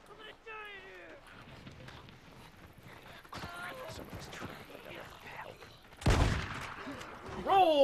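Gunfire from the Days Gone video game, a sharp loud burst near the end following scattered in-game noises and movement sounds.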